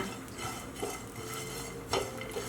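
A spoon stirs chopped coconut, black pepper and fenugreek seeds warming in a pan, giving soft scraping strokes with a few sharper clinks of metal against the pan.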